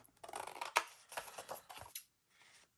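Scissors trim white edges off paper ephemera up close, with a quick series of crisp snips and paper rustling, a louder snip near the start, then a brief pause before a softer final cut.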